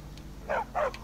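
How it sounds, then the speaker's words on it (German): A dog in Skyrim barks twice in quick succession, moderately close, over quiet game ambience. "der Hund, der bellt nur"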